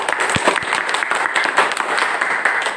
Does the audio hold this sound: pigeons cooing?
no